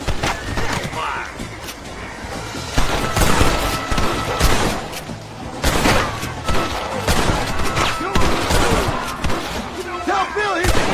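Gunfire in a shootout in the video game Red Dead Redemption, with rapid overlapping shots and thuds from several directions, loud and continuous, mixed with shouting voices.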